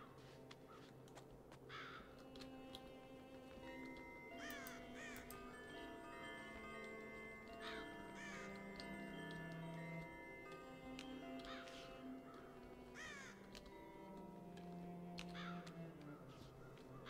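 Crows caw repeatedly in the video game Child of Light, faint, scattered harsh calls over a layered background of sustained music tones and soft ticking.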